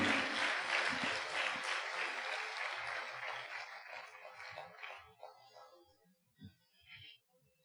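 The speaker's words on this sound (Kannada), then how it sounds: "can you raise your hands above your head and give King Jesus a big clap?" A church congregation at a youth camp claps together, a dense burst of applause that fades out over several seconds into quiet room noise with a few scattered low bumps.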